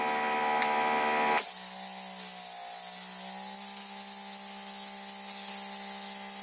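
A Greenworks Pro 2700 PSI brushless electric pressure washer fires a turbo nozzle, giving a loud, steady broadband hiss of spraying water over a constant motor hum after a brief sharp change in tone.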